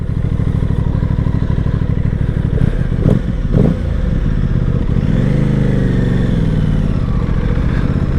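An Aprilia Tuono 660 middleweight motorcycle engine idles loud and close, with a brief clattering blip partway through before settling back to a steady, rumbling run, no talk.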